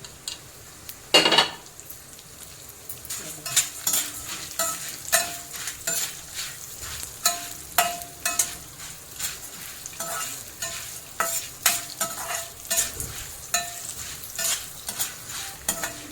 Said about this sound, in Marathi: आता हे सर्व आता आपण एकत्र तेलामध्ये फ्राय करून घेऊया